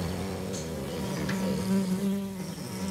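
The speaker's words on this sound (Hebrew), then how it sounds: "נו, הזבוב עדיין פה." A housefly buzzes close by with a steady, droning whine that holds for the whole stretch, wavering slightly in pitch, with no voices over it.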